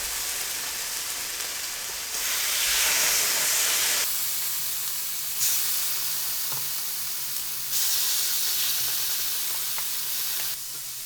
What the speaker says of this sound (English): Add the chicken and cook until browned on both sides.